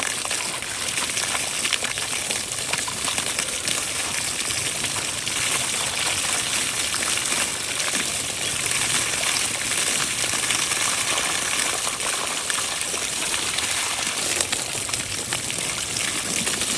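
A waterfall at Kadambur pours in a steady, loud, broadband roar of rushing water that holds unbroken and close for the whole stretch, with no voices over it.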